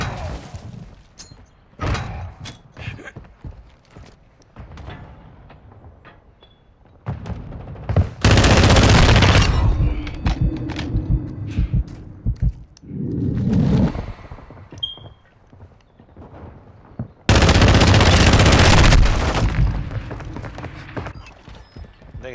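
Gunfire in a Search and Destroy video game match, with sustained loud bursts of automatic fire around the middle and again near the end, and scattered lighter shots and thuds between them.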